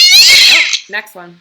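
A loud, drawn-out, strained cat meow, close up, followed by a short spoken remark.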